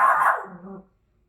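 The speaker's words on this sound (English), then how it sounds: "He likes to bark at every little thing outside the window" A pet dog inside a house gives one short, close bark at something outside the window, then silence.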